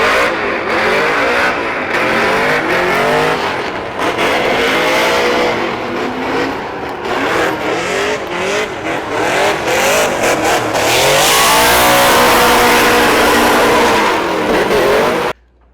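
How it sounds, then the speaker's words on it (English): A Cadillac CTS-V drift car revs hard during a run, its engine repeatedly climbing and falling in pitch, loud and close, with tire noise and a sustained high-rpm stretch near the end before it cuts off. "You can see on the run up, the car just dies because it gets stuck to the floor until the RPMs come down."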